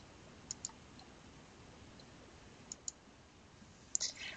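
A computer mouse clicks sharply several times, mostly in pairs, against a steady background hiss.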